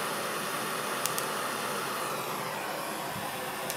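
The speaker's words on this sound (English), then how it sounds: "I can place the torch directly on my skin at 2300 degrees" Steady, loud broadband hiss of a blowtorch flame played directly against skin treated with a protective gel, continuous and close with only brief faint clicks, no talking.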